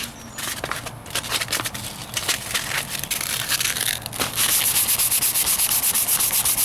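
Bondo glazing putty on the driver's side wheel arch of a 1998 Ford Ranger is sanded with 220 grit sandpaper: close, rapid, rhythmic scratchy rubbing strokes that speed into a fast, steady back-and-forth toward the end.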